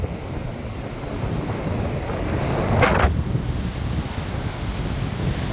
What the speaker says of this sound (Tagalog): Maganda naman ang panahon, mahangin.